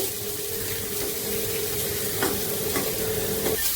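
Onions frying lightly in a pan, a steady close sizzle with a few scrape-like stirring clicks, no voices.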